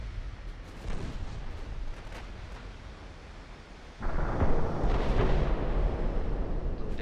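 Heavy rumbling blast from a warship exploding in the naval strategy game Ultimate Admiral Dreadnoughts, a dense low roar that swells sharply midway and stays loud amid ongoing booming battle noise.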